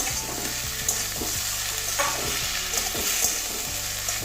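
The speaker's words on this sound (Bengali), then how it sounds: "এখন একটু টমেটো কুচি দিয়ে দিচ্ছি" Chopped tomato going into a drumstick and potato curry with mustard and poppy seed in a pan, with steady frying sizzle and repeated scraping stir strokes in a regular rhythm, close and fairly loud, no talk.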